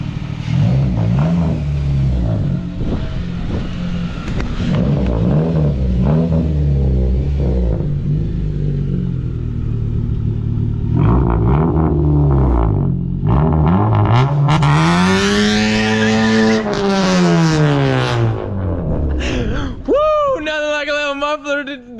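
2015 car engine with a muffler delete revving loudly and continuously, the pitch rising and falling through repeated sweeps before climbing into a sharp high rev near the end, with voices talking over it.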